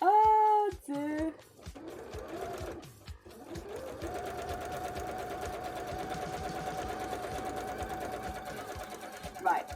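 A sewing machine stitches a continuous line with a steady, even whir that runs for several seconds at moderate volume, after a short burst of speech at the start.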